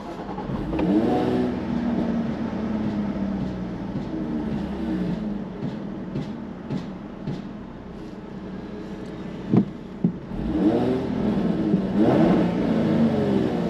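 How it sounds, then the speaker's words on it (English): A Jaguar F-Type V6 (X152) starts with the exhaust off: a brief cranking catch and rev flare, then a quiet, steady idle hum inside the car, with a second rise in revs near the end. "Start the car."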